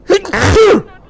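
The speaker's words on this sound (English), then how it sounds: "My sneezes usually come in threes" A single loud, close human sneeze with a sharp intake of breath, then a burst and quick trail-off into quiet.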